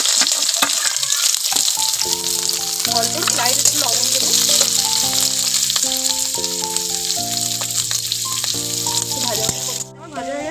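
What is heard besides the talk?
capsicum and carrot frying in ghee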